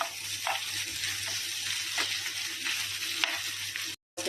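Potato with ginger paste fries in a pan with a steady, close sizzle and occasional soft stirring scrapes, and then the sound cuts off abruptly near the end.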